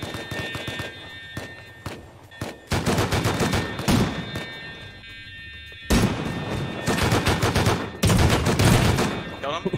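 Rapid gunfire bursts from a first-person shooter video game, loud, close bursts of repeated shots separated by short gaps, with voices talking over the action.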